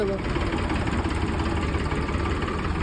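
Engine of an old tractor idling steadily and continuously at close range, a low even rumble with no revving across the short stretch.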